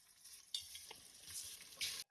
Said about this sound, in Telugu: ఎగ్స్ ఫ్రై చేస్తాను. బాయిల్డ్ ఎగ్స్ ఇవి.